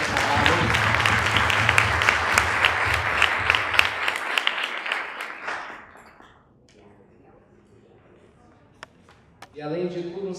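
Loud audience applause fills a hall, a dense wash of clapping that lasts about five seconds, then fades out and leaves near silence with a few faint taps before talk returns at the end.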